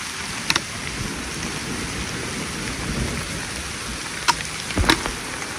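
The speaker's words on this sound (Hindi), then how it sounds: "अभी इतना तेज से बारिश शुरू हुआ है" Heavy rain pours steadily in a dense hiss on a fort trek, with a few sharp cracks and low rumbles of thunder breaking through.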